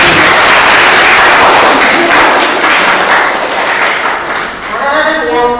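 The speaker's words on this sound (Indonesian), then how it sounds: "Ayo kita tepuk tangan untuk pembelajaran hari ini" A class of pupils claps hands together in a dense, steady burst of applause close by, tapering near the end as a voice starts speaking over it.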